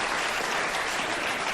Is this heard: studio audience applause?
yes